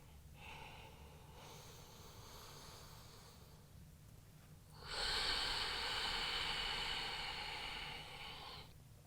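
Slow, deep breathing during a glute bridge exercise: a soft, steady breath early on, then a louder, drawn-out airy exhale lasting several seconds before fading, close to the mic.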